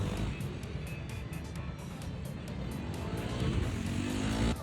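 Motorcycle at full acceleration through a moto gymkhana corner, a loud continuous engine roar that climbs in pitch and swells toward the end.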